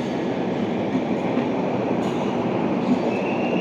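The Guwahati superfast train pulls out of Dankuni Junction with a continuous rolling rumble of wheels on rail and a faint squeal, sustained and fairly loud with no talk.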